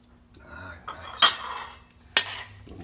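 Pasta carbonara is served from a pan into a bowl: quiet scraping and shuffling, then two sharp metallic clanks of utensil against cookware, close up with no talking.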